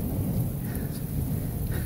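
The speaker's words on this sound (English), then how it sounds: "We just had some lightning hit somewhere really close." Heavy rain pours while a deep, loud thunder rumble rolls on continuously right after a nearby lightning strike.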